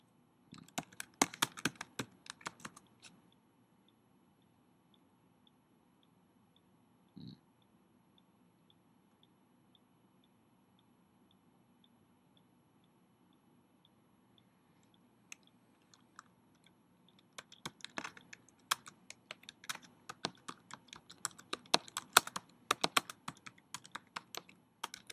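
Typing on a computer keyboard during an interactive fiction game, bursts of quick close key clicks at the start and again near the end, separated by a long quiet stretch with only a few scattered taps.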